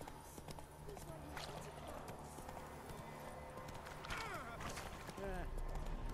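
A horse gallops in The Witcher 3: Wild Hunt, its rhythmic hoofbeats close and steady while a voice speaks over them.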